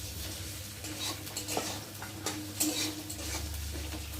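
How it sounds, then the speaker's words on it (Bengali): Potatoes sizzling in hot oil with whole spices and onion while a utensil stirs and scrapes the pan with irregular clinks, close and fairly loud. "আলুগুলোকে আস্তে লাল লাল করে ভেজে নিই"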